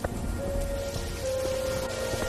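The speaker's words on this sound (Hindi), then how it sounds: "लेकिन बारिश थी कि रुकने का नाम तक नहीं ले रही थी।" Heavy rain falling steadily, a dense continuous hiss of drops on surfaces with a faint steady tone running through it.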